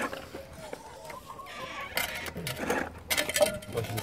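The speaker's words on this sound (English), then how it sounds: "These are my brother's chickens." Backyard chickens cluck and mutter close by, a busy run of overlapping clucks and squawks that grows louder toward the end, with some rustling mixed in.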